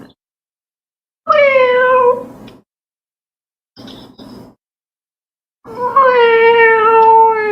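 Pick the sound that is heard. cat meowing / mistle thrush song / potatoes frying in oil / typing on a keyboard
cat meowing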